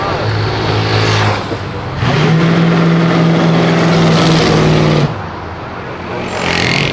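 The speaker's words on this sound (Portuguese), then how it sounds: "Ver um carro desse acelerando já é raro, com esse ronco mais raro ainda, ainda mais com esse ronco perfeito" A Porsche engine roars loudly and close as it accelerates, a sustained throaty rev rising through the middle before easing off and building again.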